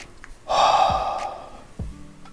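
One deep, slow breath drawn in and let out near the microphone, followed by a quieter exhale, with no talking.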